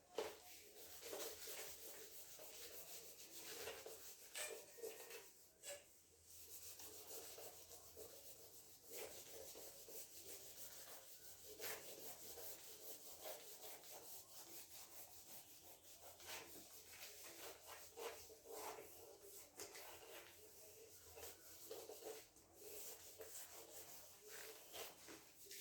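Rubbing strokes wipe a classroom board, a faint, uneven series of scraping swipes with short pauses between them and no voices.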